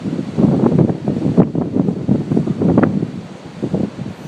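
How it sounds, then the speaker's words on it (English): Strong gust of wind roaring through trees during a cold night snowstorm, a loud continuous rushing that swells and fades in waves, close to the microphone with buffeting noise, no talking. "All right, here comes a good gust."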